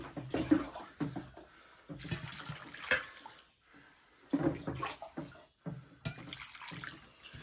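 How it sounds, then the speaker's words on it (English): Ice water from a cooler is poured over cut potato fries at a campsite, a soft, close splashing and trickling that comes in several uneven bursts with quiet pauses between. "we're going to soak these in some ice water out of the cooler for about 20 minutes"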